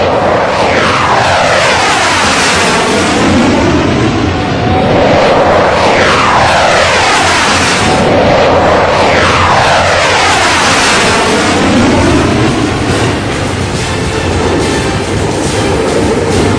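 A Tejas fighter jet engine roars loud and unbroken, its pitch sweeping up and down repeatedly as the aircraft passes, with no voices over it.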